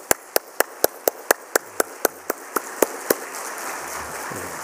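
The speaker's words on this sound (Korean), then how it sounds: "박수로 한번 맞이해 주십시오." Slow, evenly spaced claps ring out one at a time in a church during a Friday service, about a dozen crisp strikes that thin out toward the end and leave quiet room tone.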